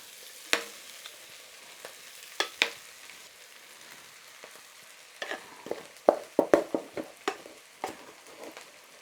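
Rice for fried rice, stir-fried in a pan, gives a soft steady sizzle beneath sharp scraping and clanking strokes of a utensil, which come sparse at first and then in a quick cluster.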